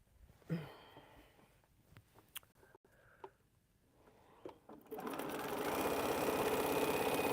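A sewing machine stitches quilt pieces together. Soft handling clicks and rustles come first, then the motor starts, running loud, fast and steady at close range.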